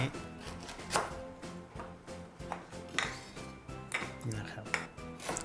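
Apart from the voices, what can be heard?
knife chopping galangal into pieces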